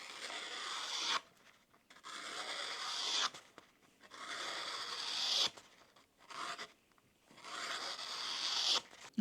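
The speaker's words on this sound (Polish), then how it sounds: "Robimy test ostrości, kartka papieru." A knife freshly sharpened on leather and polishing paste slices through a sheet of paper in four long, hissing cuts separated by short pauses, quiet and close with nothing else heard.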